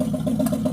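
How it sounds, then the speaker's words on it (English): An old 1957 GMC truck engine, newly started after 40 years abandoned, idles with a low, steady rumble and a faint rhythmic chug, close by and continuous with no talking. "I don't know if you can hear me or not over the engine noise"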